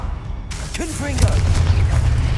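A Confringo blast spell detonating in the game Hogwarts Legacy, a sharp crack followed by a rising low rumble that swells and lingers, with brief tonal magic whooshes layered over it.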